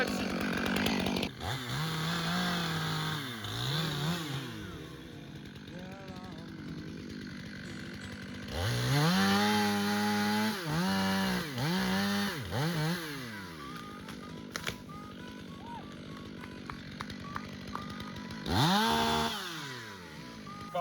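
A chainsaw runs in bursts, its engine rising and falling as it makes the felling cut into a tree trunk, with quieter idling pauses between cuts.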